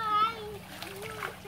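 Water splashes as clothes are washed by hand in a river, the soft splatter sitting under a voice and other talk nearby.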